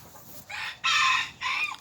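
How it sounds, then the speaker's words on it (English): A silkie and an Old English bantam chicken call up close, with three loud, hoarse crowing or squawking bursts in quick succession and no talk. "That is my one silky and one of my old English bantams."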